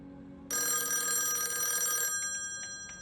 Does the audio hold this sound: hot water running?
no